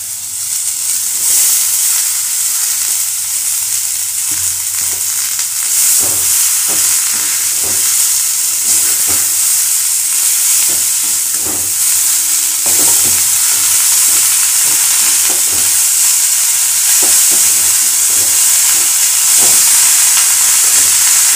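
Spices sautéing with sliced cabbage in a pan for a vegetarian cabbage curry, a steady loud sizzle and hiss with scattered clicks of stirring throughout, no voice heard.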